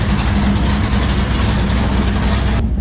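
A stroked 305 small-block Chevy, built out to 339 cubic inches, idles steadily as it warms up, its low rumbling drone continuous and close before cutting off abruptly near the end.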